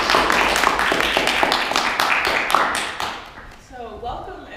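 Warm round of applause at a Toastmasters meeting at UGA: a small group claps with dense, fairly close hand claps that thin out and fade, followed by a voice speaking.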